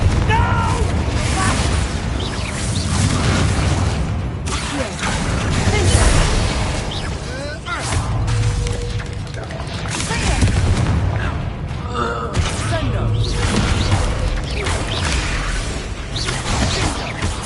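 Repeated Confringo blast spells in Hogwarts Legacy combat, several punchy bursts and booms scattered across a busy fight with grunts, shouts and brief speech mixed in.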